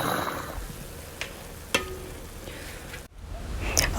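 Mixed vegetables and rice for vegetable pulao fry in a pan, giving a steady close sizzle with a few clinks of stirring.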